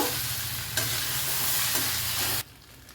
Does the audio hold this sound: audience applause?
no